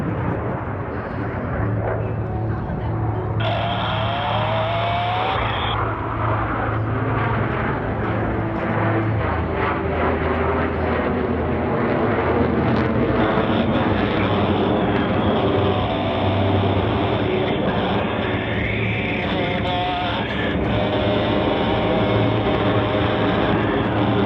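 US Navy Blue Angels jets roar overhead at an outdoor airshow during a vertical formation pull-up and separation, a loud sustained engine rumble with rising and falling whines carrying through the whole stretch.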